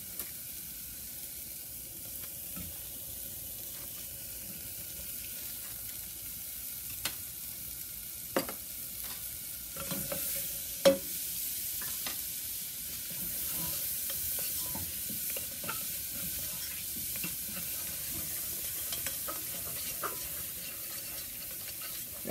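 Butter for a shrimp sauce sizzles softly in a pan while being stirred, a steady faint frying hiss broken by occasional light scrapes and taps of the utensil, no voices.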